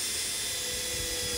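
A Hyper Tough installation driver sinks a screw into wood at its highest clutch setting below drill mode, giving a steady, high-pitched motor whine that runs loud and close for the whole moment, with no talking.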